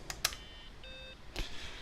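An Acorn BBC Model B Micro power supply under repair gives two faint electronic tones in a row, a higher beep then a lower boop, between a few light clicks and handling taps.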